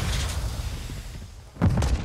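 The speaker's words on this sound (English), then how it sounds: "Grenade out" A grenade goes off in Call of Duty with a deep low boom near the end, following a stretch of rumbling battle noise; moderately loud and nearby, with no one speaking.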